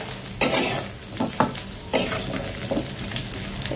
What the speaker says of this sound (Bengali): এখন 2-1 মিনিটের মতো এই রসুনটা ইয়ের সাথে ভাজবো